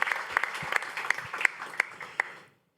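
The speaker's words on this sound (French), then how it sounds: "Et voilà, merci, vous pouvez l'applaudir." A brief round of applause from a small audience, scattered distinct claps that stop abruptly into silence.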